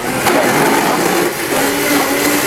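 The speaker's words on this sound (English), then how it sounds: "I'm going to show you how you can run this thing all the way up to 10" A blender runs at full speed with its dial turned up to 10, crushing stuck ice, giving a loud, dense, continuous motor roar with grinding texture and small fluctuations throughout, no talk.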